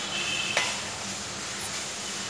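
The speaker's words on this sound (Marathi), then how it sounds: "हळद परतवून घेतली आहे" Turmeric stirred in a hot pan for an Aagri-style crab curry, a steady soft sizzle with a single sharp clink of a spoon against the pan partway through.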